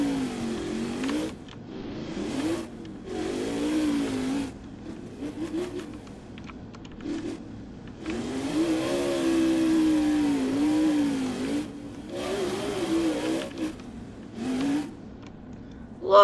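Monster truck engines in the Roblox Monster Jam game at a freestyle event, revving and droning in repeated surges that rise and fall in pitch, loud and continuous with brief gaps between bursts.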